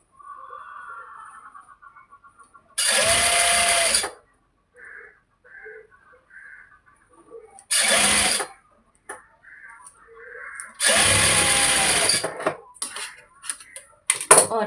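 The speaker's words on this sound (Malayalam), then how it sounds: "അതിങ്ങനെ വെച്ചിട്ട് നമുക്കിതൊന്ന് സ്റ്റിച്ച് ചെയ്ത് കൊടുക്കാം" A sewing machine stitches the seam of an A-line top with extended sleeves, running in three loud bursts of rapid stitching, separated by quieter pauses with faint soft sounds.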